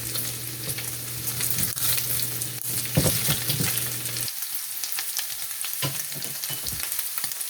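Ingredients for kimchi stew fry in a pan, a continuous close sizzle with crackling pops and occasional stirring scrapes, a low steady hum cutting out partway through.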